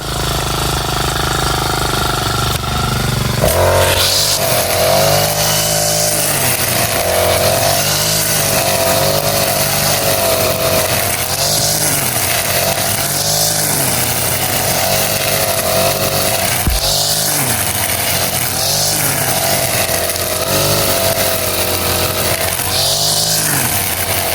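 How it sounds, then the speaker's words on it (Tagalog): A loud motor drones without stopping, its pitch rising and falling in regular waves as it revs and bogs down under load. "Ayan po, namatayan na ng makina si Bossing."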